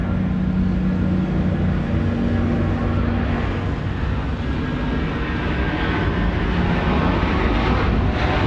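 An Airbus A330-300 bound for Kuala Lumpur rolls for takeoff on runway 16 right at Sydney Airport, its jet engines a loud, steady roar that holds throughout with no voices.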